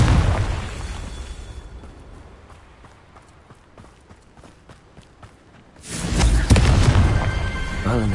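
Confringo explosion spell in Hogwarts Legacy: a loud burst opens, fades into quieter rhythmic clattering steps, then a second heavy blast erupts near the end, booming and close.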